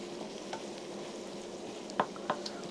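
Onions frying in a pan on an induction hob, a steady quiet sizzle with a few sharp stirring clinks and scrapes near the end.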